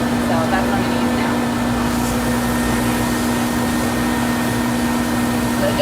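A pet blow dryer runs steadily while drying a cat after its bath, a loud, constant whooshing hum close to the microphone with a person's voice faintly under it.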